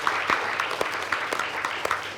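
Studio audience applause at an Indonesian education event, a steady patter of many hands clapping with scattered sharper claps, moderately loud and without speech.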